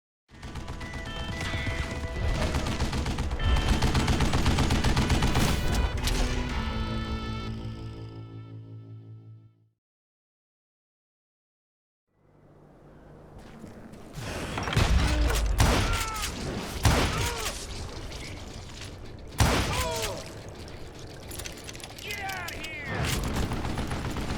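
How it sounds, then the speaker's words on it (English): Video game Gatling gun fire from a shielded tunnel position in a western shooter, loud rapid bursts with booms and crashes, a silent gap midway, then renewed heavy impacts and gunfire. "thought things couldn't get worse, Kid Curry opened up on me with a goddamn Gatling gun."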